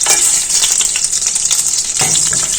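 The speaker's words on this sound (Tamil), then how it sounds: "இப்போ நம்ம எடுத்து வச்சிருக்கிற பட்டை, கிராம்பு, சீரகம் இதை நம்ம அப்படியே அதில் சேர்த்துக்கலாம்." Cinnamon, cloves and cumin hit hot oil and butter and sizzle loudly and steadily up close, with crackling bursts and brief stirring scrapes throughout and no talking.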